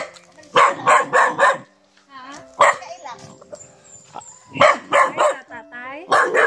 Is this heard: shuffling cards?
no